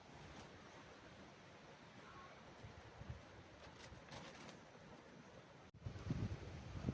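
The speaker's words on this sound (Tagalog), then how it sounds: "Malakas-lakas na po yung hangin." Steady wind roars and buffets the microphone in an open farm field, a low continuous rush that swells into a stronger gust near the end.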